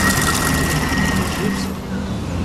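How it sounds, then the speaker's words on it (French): A blender motor whirs steadily and close at a Nouméa restaurant as it emulsifies crab aïoli with olive oil, its tone thinning and dropping slightly partway through. "On va continuer à le mixer."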